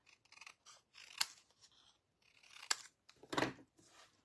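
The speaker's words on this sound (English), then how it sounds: "I don't want to damage the rest of the cardstock, so I'm just going to cut them apart." Scissors snip through cardstock in a paper-crafting session: a few separate, sharp crisp cuts spaced irregularly, close and fairly quiet, with no talking.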